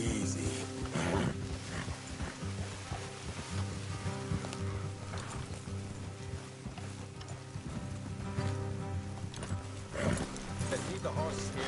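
Horses in the video game Red Dead Redemption 2 clop and shift steadily beneath a dense layer of music and ongoing conversation, the hooves fairly close but never alone.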